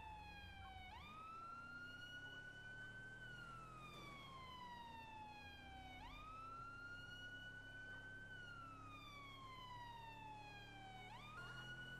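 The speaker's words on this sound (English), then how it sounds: "I got my siren noises sorted out. They're now British sirens. More specifically, Met police sirens." A British Met police car siren in the LSPDFR video game, a loud, steady two-tone wail rising and falling in long slow sweeps, heard continuously and alone over a low engine drone.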